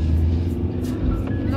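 A car drives along on a sunny morning school run in the south of France, a low steady rumble of engine and road noise inside the cabin.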